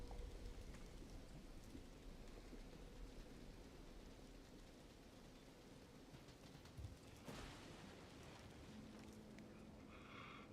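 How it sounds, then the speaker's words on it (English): Rain pours in a video game scene, an even, unbroken wash of droplets that holds at a steady level throughout, with a faint tonal hum near the close and no talking. "Of course it rains."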